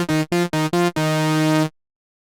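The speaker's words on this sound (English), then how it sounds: "Compare that to a major second," String instruments play a major second interval, alternating between two notes in four short pulses before settling on one held tone that cuts off, clear and unaccompanied.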